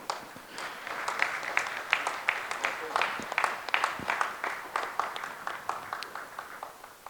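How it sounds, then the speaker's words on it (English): Audience at an HR awards event applauds with distinct, scattered hand claps over a steady crowd wash, moderately distant, continuing for several seconds with faint voices underneath. "Let's give a big hand, guys."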